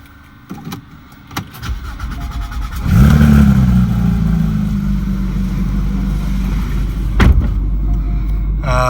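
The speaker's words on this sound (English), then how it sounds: "I'll go ahead and get in here and I'll start it up. We'll give it a couple revs." A 2015 Porsche 911 GT3 engine starts with a sharp bark after a few clicks, then settles into a loud, steady idle with a brief rev blip near the end, heard up close.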